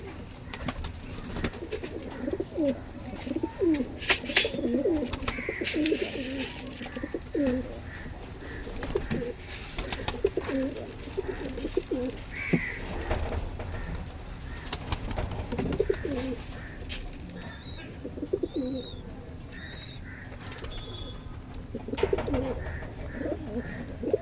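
Pigeons kept at home coo repeatedly after being let out, soft low rhythmic calls overlapping throughout with scattered wing flutters and background noise.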